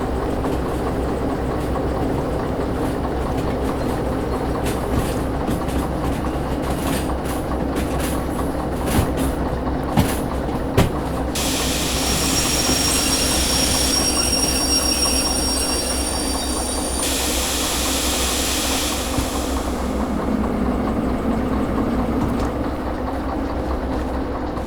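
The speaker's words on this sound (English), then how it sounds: "Anyway, I should kind of take control of the train now." Diesel-electric locomotive train in the Derail Valley video game rolling steadily with a constant low engine drone and rumble, rail clicks, and stretches of high squealing wheels, loud and continuous with no talking.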